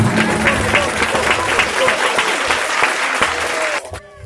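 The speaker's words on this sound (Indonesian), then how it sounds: "Tepuk tangan." Loud, dense applause from an audience at a Sundanese-language speech contest at an Islamic boarding school, where winners are being announced. A voice talks over the clapping, which holds steady for nearly four seconds and then drops off abruptly.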